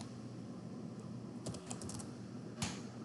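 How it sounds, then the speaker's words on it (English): Keys tapped on a computer keyboard while entering a spreadsheet formula, a quiet scatter of clicks in short bursts over a low steady hum, with no talking. "I'll click in cell C8, type an equal sign, and then type PDURATION"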